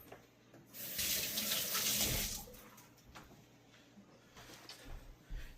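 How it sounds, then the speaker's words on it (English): Tap water runs into a sink while fingers are rinsed under it during pork rib preparation, a close rushing splash that swells loud for a couple of seconds and then eases to a quieter trickle with small splashes. "So I'm just going to rinse my fingers off."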